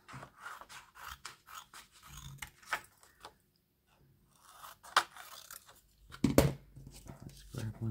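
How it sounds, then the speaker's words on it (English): Scissors snip through sewn fabric pieces for specimen slides, giving a series of short, close cutting clicks and rasps with quiet pauses, and a few louder scrapes and thuds near the end. "I'm going to cut each one out for each slide"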